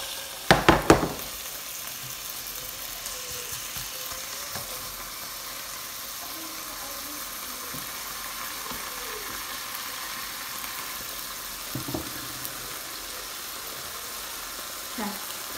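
Food frying in a pan at home, a steady soft sizzle hissing throughout, with a few clatters and knocks of utensils near the start and later, no talk.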